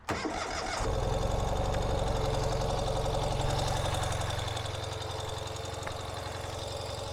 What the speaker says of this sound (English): if I turn our Ural on here, we're in neutral, and all we have to do is hit that starter.